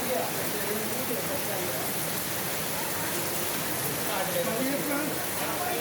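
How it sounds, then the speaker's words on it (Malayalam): Heavy rain in the hills at Munnar pours down in a dense, constant wash that stays loud and even throughout, with faint voices now and then beneath it. "ഇതിപ്പോൾ ഒരു അരമണിക്കൂറായി മഴ തുടർന്ന്."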